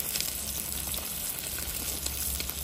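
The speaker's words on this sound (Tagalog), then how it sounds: "Kasi nagprito ako sa labas ng isda." Fish frying outdoors in hot oil, a steady close crackling sizzle with faint popping and no voices.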